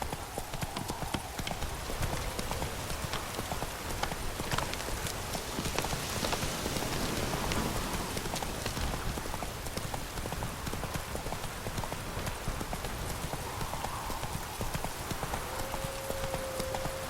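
Horse hooves clip-clop steadily in The Witcher 3, a continuous rhythmic trot close by with rain pattering throughout and a faint voice now and then.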